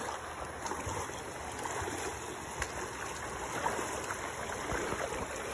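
Rushing flood water in a flooded area, a steady broadband roar of fast-moving water that continues evenly throughout, with no talk.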